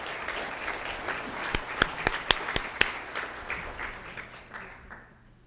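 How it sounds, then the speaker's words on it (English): A school awards-night audience breaks into applause, a dense wash of clapping with a few sharp, loud claps standing out near the front, fading out toward the end. "Let's give him a round of applause."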